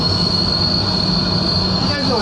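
Train effect inside the Millennium Falcon Smuggler's Run ride, a loud, continuous high metallic wheel squeal over rumbling rail noise throughout.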